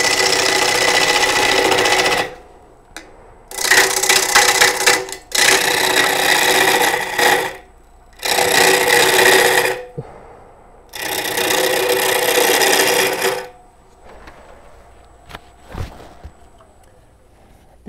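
A lathe turns a live-edge wooden bowl with an embedded nut as the tool cuts away wood, giving loud, close, broadband scraping in several long bursts separated by brief quiet gaps, with a few knocks near the end.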